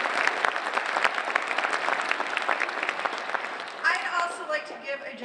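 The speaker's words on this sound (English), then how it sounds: "I hope that you'll help me with a round of applause for our wonderful auditorium crew" An audience at a band concert claps in a full, crackling round of applause for the auditorium crew, with a voice starting to speak over the last stretch as the clapping thins.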